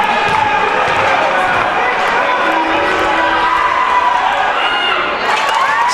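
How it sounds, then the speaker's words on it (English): Home crowd at a Wheaton men's college basketball game, seated behind the basket, keeps up a loud steady roar of shouting and cheering through a free throw in a close game, with whistles and shoe squeaks mixed in. "Wheaton crowd behind the basket doing everything they can to distract them"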